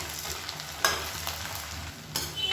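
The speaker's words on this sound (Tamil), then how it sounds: "இப்போ வெங்காயம் நல்லா வதங்கிடுச்சு" Onions sauté in coconut oil in a pan, giving a steady low sizzle with a few sharper scraping stirs of a spatula, close and fairly quiet.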